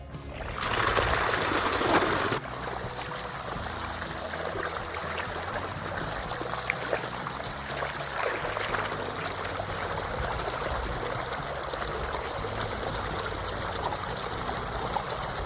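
Water pouring steadily from a container in a rural outdoor setting, a loud gush for about two seconds settling into a continuous trickling stream that runs alone to the end.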